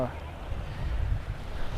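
Wind gusts across a beach in Krabi, Thailand, producing a steady low rumbling buffet against the microphone that swells slightly partway through, with no voices.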